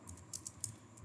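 A computer keyboard is typed on in a short, quick run of about half a dozen light keystrokes as an npm install command is entered, close and soft with no talking.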